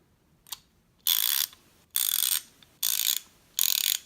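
A 72-tooth 1/2-inch drive ratchet clicks in four bursts of fast, fine ratcheting, each about half a second long and separated by short pauses, close and crisp with a single faint click before the first burst.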